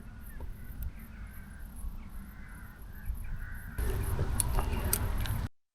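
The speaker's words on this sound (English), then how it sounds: "instantly all the birds erupted into a chorus of frantic calls" Crows caw repeatedly in a forest, their calls rising into a loud, dense burst of frantic cawing partway through, close and alone with no talk.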